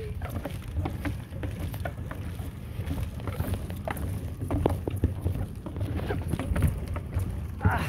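A small boat heads out across the sea off San Vicente, Palawan, with a rough steady rumble of hull and wind, water splashes and slaps patter throughout, fairly close and moderately loud.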